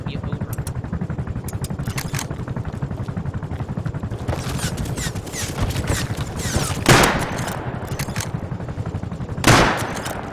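Rapid gunfire aimed at an attack helicopter in the video game Rust, a continuous stream of close shots with a couple of louder bursts, while a voice talks over it.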